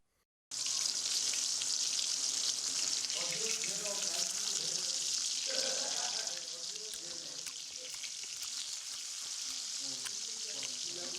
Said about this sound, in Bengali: কি গো, তোর মাছ ভাজা হলো?